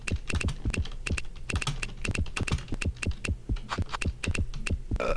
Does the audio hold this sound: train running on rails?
no